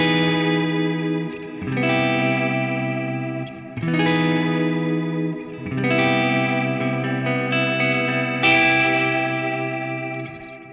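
An electric guitar plays a clean tone through a S-Gear amp simulator's Stolen Clean preset: loud, ringing chords strummed every couple of seconds, each sustaining and shimmering with a chorus-like effect before the next.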